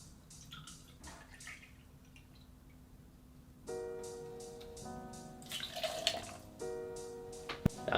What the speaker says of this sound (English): I'm adding 60ml, 2 ounces of vodka